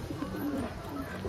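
Green dobaj pigeons coo in a low, continuous rolling murmur, close and fairly soft, with no talk over the short stretch.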